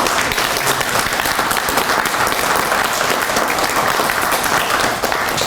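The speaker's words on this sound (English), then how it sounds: "How about a round of applause for our candidates?" Audience at a primary election forum applauds the candidates, a dense, steady round of clapping that fills the room at full volume for several seconds.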